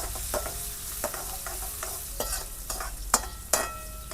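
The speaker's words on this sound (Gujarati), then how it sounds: "હિંગ, મીઠો લીમડો, લીલા મરચા, ડુંગળી મિક્સ કરી દઈશું।" Asafoetida, curry leaves, green chillies and onion are stirred in hot oil in a pan, a close crackling sizzle with repeated scraping strokes of the spoon and no speech.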